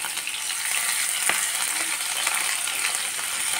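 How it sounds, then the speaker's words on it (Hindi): Green chillies and chopped onion fry in a hot kadai with a steady, close crackling sizzle, plus one sharp clink near the middle and no talking. "कढ़ाई गर्म हो चुकी है और हरे मिर्च और प्याज को डाल के फ्राई करूँगी।"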